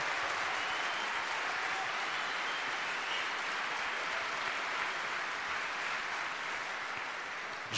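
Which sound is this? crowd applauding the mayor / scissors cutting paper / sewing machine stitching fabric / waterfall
crowd applauding the mayor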